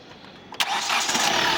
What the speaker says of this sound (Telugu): ఒకసారి మళ్ళీ ఇంజిన్ ఆఫ్ చేసి ఆన్ చేస్తాను మళ్ళీ చూడండి